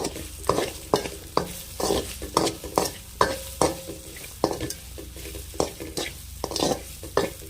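Vegetables, including eggplant, sizzle in a hot pan while a utensil scrapes and stirs in repeated strokes, a rhythmic scraping over steady frying.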